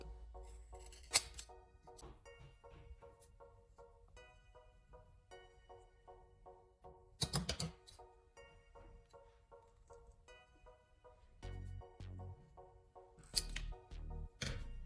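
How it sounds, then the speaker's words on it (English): Scissors snip small square pieces from an old rubber inner tube, giving sparse sharp cuts scattered across a quiet stretch, with a few louder clustered snips near the end, close by. "I take an old inner tube and cut out 2 small square pieces."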